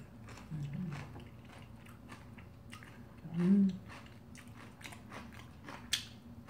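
Close, soft chewing of roasted sweet potato wrapped with sour kimchi, with moist crunches and one louder bite in the middle, while a few quiet murmurs come from the eater.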